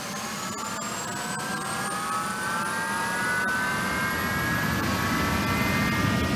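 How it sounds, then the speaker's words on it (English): Jet aircraft engines run up for a test on an airport tarmac after maintenance, a loud continuous roar with a rising whine that climbs steadily in pitch over several seconds, with no voices. "the jet engines need to go for a test spin on the tarmac"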